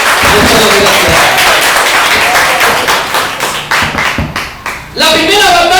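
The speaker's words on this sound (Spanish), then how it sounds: "Levante sus manos al cielo y dele palmas al Todopoderoso" A church congregation claps hands loudly and rhythmically in unison, close and energetic, the beat thinning and faltering near the end before swelling again, with voices mixed in.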